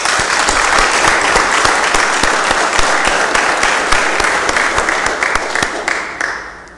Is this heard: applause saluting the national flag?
yes